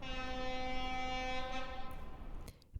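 A train sound effect: a sustained harmonic train horn blares steadily, then fades out near the end with a few faint clunks after it.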